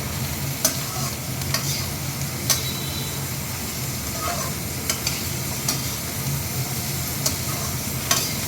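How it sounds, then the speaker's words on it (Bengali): Beans, carrot and potato frying in a pan, a constant close hiss of oil with occasional sharp spatula knocks against the metal at irregular intervals. "এটা খুব ভালো করে ভাজবো।"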